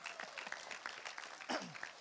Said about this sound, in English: Round of applause for Trenton.